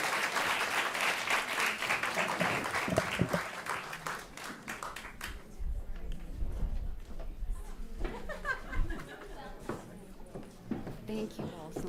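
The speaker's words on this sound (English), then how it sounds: "Give them another round of applause." Applause from an audience after a panel session on the future of food, starting fairly full, then thinning into scattered claps and room noise with murmured talk mixed in.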